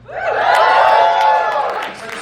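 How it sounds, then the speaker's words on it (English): A comedy club crowd lets out a loud, sustained chorus of whoops and woos, swelling and then holding before tapering, with scattered laughter and chatter mixed in close by. "Those are some wet woos, dude."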